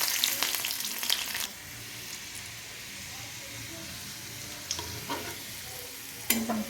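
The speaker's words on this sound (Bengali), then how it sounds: "এবার ওই তেলের মধ্যে দিয়ে দেবো রসুন রসুনটাকে এবং লাল লাল করে ভেজে নিতে হবে" Garlic sizzles in hot oil as it is fried until reddish-brown, loud at first with stirring clatter, then settling into a steady softer crackle with a few scraping knocks.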